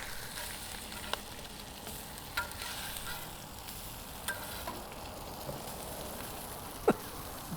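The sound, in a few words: smoked brisket searing with heat on grill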